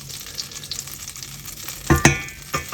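Butter and olive oil sizzle steadily in a non-stick pan, a close, even frying hiss with a couple of louder crackling bursts near the end and no talking.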